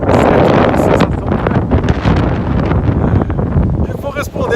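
Strong wind in a park in Toronto roars and buffets the microphone in a loud, unbroken rush, gusting throughout with a faint rustle behind it.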